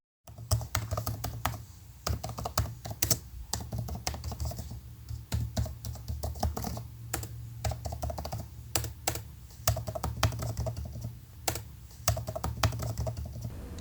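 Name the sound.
typing on a computer keyboard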